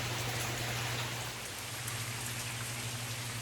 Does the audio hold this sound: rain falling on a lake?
yes